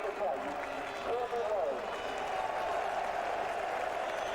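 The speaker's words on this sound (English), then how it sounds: "Tremendous cheer for Courtney" A cricket crowd at the 1999 World Cup match between West Indies and Australia greets incoming batsman Courtney Walsh with sustained applause and cheering, a broad steady roar of a large stadium audience with a commentator speaking over it.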